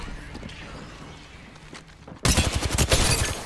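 Rapid gunfire in the shooter game Apex Legends erupts suddenly after a quiet stretch, a loud, dense burst of repeated shots continuing to the end.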